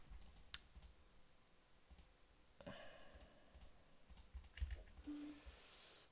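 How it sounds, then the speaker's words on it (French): Clicky keypresses on a computer keyboard at a poker cash-game session, a few scattered taps and short bursts of typing close by and fairly quiet, with no talking. "Je vais repasser au clavier."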